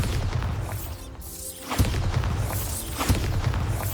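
A Bombarda explosion spell going off in Hogwarts Legacy, with a whooshing rush leading into a deep booming blast, then a second heavy impact a moment later, loud and close.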